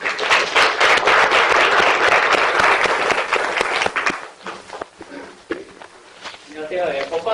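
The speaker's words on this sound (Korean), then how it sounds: "따뜻한 박수 맞아주세요." A lecture audience at a university hall claps warmly in dense, sustained applause that fades after about four seconds, leaving scattered claps and room noise.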